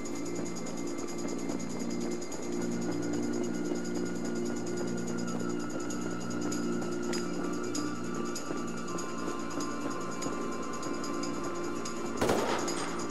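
AK rifle fire in Grand Theft Auto V: one loud, sharp burst of shots near the end, standing out over a steady, hissy game ambience that fills the rest of the stretch.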